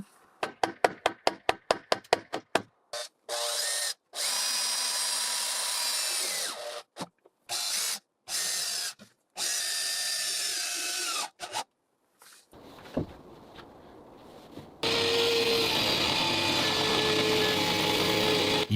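A power tool cuts wooden pieces for the window frame of an off-grid tiny cabin in the forest. Rapid short bursts give way to longer whining runs, then a steady continuous cut near the end, with no talking.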